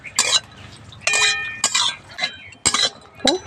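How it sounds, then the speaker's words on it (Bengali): Two fried dried red chillies are lifted out of a frying pan with a utensil, making about five sharp, close metallic clinks and scrapes against the pan at irregular intervals. "লঙ্কাটা ভাজা হয়ে গেছে লঙ্কাটা তুলে নিচ্ছি"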